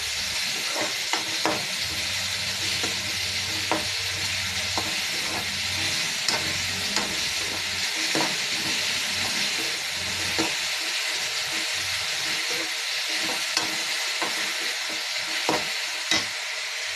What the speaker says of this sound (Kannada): ನೋಡಿ, ಎಲ್ಲ ತರಕಾರಿನೂ ಹಾಕ್ಕೊತಾ ಇದ್ದೀನಿ. ಎಲ್ಲದು ಒಟ್ಟಿಗೆ ಬೇಯಲಿ.